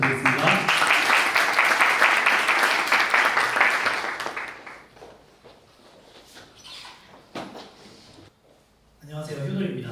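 A conference audience applauds as a speaker comes up to present on AI robot caregiving, steady full clapping for about four seconds that then dies away into scattered claps and quiet room noise before talking resumes.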